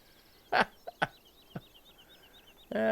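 Chickens cluck in a video game, several short, sharp clucks spaced across a few seconds over a faint whistling tone, ending in a louder burst of clucking.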